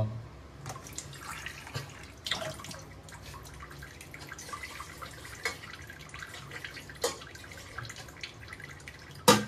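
Water runs and drips softly into the base of a pressure cooker over its bottom rack, a faint, uneven trickle with scattered louder drips and clinks, heard alone.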